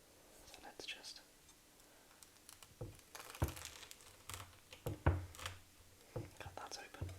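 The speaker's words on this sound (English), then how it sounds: "I'll use my sharp knife for the Nutella crumpet" A sharp knife cuts open a Nutella crumpet in a few soft crunching, crinkling strokes with light thuds against the board, close and quiet, under gentle whispering.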